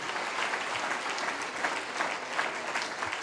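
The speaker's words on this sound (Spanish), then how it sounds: "¿Cuánto le damos un aplauso fuerte al Señor?" A church congregation bursts into sustained applause during a sermon, a thick continuous patter of many hands clapping at moderate volume, with faint voices mixed in.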